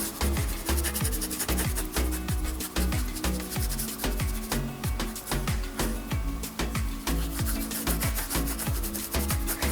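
A brush blending acrylic paint on a canvas for a sunset seascape, making steady rhythmic scrubbing strokes, close and fairly loud, repeating back and forth with no talking.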